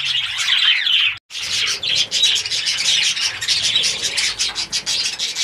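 Budgerigars in an aviary, with many males and females together, chirp and chatter loudly and continuously in a dense, close flock, with a brief drop to near silence early on.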